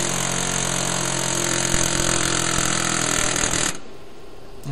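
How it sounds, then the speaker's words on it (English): A loud, rapid, continuous pneumatic air hammer pounding inside the bore of a wheel hub close by, running steadily for several seconds before abruptly stopping, leaving a quieter background hum. "The bit of the air hammer is inside the bore of the hub."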